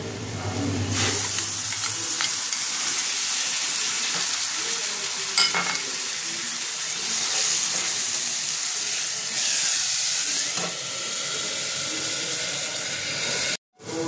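Ginger, garlic, onion, green chilli and poppy seed paste goes into already browned onions and fries, giving a steady sizzle and hiss with stirring that runs throughout and stays close and fairly loud.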